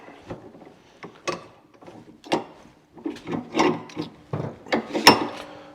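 A knife scrapes old varnish off a wooden surface in a series of short, rasping strokes that come in uneven bursts and grow busier toward the end, close and clear with no talking.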